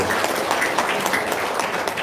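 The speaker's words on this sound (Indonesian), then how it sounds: "Tepuk tangan dulu dong untuk Haji Marco" An audience gives a brief round of applause for Haji Marco at a religious talk, a short, even burst of group clapping.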